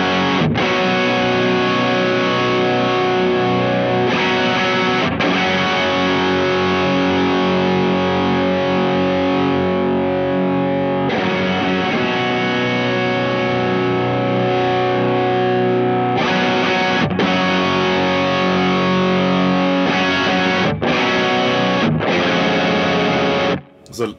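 Electric guitar played through a VS Audio Royal Flush dual overdrive pedal, loud, thick and high-gain, with sustained chords and riffs ringing continuously and brief pauses between phrases.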